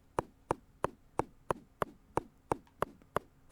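Repeated hammer strikes on a block in the video game Junk Jack. Eleven evenly spaced sharp knocks land about three per second, crisp and close, with nothing else in the background.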